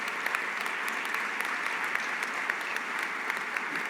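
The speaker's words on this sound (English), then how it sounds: "That deserves a round of applause." Steady applause from a crowd fills the whole stretch, a dense patter of many hands clapping at an even level with no pauses.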